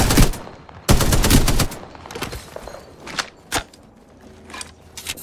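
Bursts of automatic gunfire in the battle royale game Apex Legends, a loud sustained volley followed by scattered sharper shots and impacts, some nearer and some more distant.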